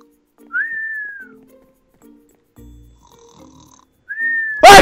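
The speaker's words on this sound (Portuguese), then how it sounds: "a vaca tá roncando" Two drawn-out whistling snore tones from a cow in the video game Minecraft, each a rising then falling whine, with soft low game sounds between them and a loud burst at the very end.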